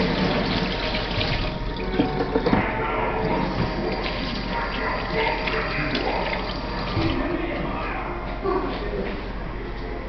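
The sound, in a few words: washing hands under running tap water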